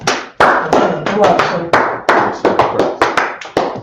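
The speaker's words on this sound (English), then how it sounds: "Clap it up." Several people clap in a room in short, ragged bursts, each round starting with a sharp hit and trailing off, about eight or nine bursts close to the microphone, with talk mixed in.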